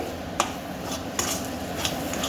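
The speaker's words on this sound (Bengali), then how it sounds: "অনবরত এইটা নাড়তে হবে যদি না অনবরত নাড়ো তাহলে কড়াইয়ের মধ্যে এটা আটকে যাবে" A spoon scrapes and knocks against a kadai while dhoka batter is stirred continuously, producing a few sharp metallic clinks over a steady low background hiss.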